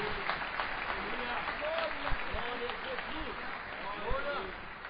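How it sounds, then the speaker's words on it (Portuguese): A church congregation claps during a Portuguese-language family worship service, steady dense applause sustained throughout, with voices and a singing or speaking voice audible over it. "Pode aplaudir o Senhor, que Ele merece toda a honra, toda a glória e todo o louvor."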